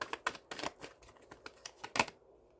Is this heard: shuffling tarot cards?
yes